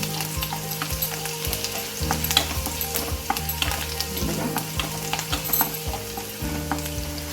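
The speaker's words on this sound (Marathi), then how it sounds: "आता आपण ह्याच्यात घालतोय कढीपत्ता तडतडला, कांदा आणि हे छान परतून घ्यायचं" Curry leaves and chopped onion sizzle and fry steadily in a hot pan, with repeated stirring scrapes and clinks throughout; close, continuous crackle for a Malvani prawn curry.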